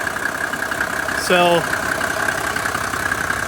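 A 1987 Mercedes 300SDL diesel engine idles steadily close by with the air-conditioning compressor clutch engaged, a constant low rumble with a brief spoken word over it.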